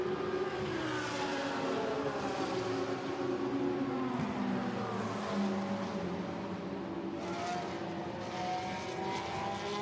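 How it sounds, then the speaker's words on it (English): GT cars racing on track during qualifying at Barcelona, including a Porsche, with a continuous loud engine drone whose pitch rises and falls as the cars pass, steady and close throughout. "So there, Luca Giotto trying to get away now from Mikkel Pedersen in the Porsche"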